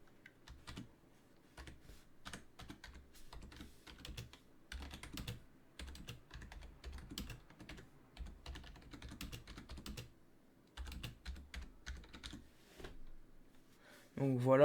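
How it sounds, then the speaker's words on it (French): Typing on a SteelSeries Apex 3 membrane keyboard gives soft, muffled key presses in quick irregular bursts separated by short pauses, close up and fairly quiet, with a voice briefly at the very end. "Et je vais vous taper une phrase ou quoi pour que vous voyez à peu près"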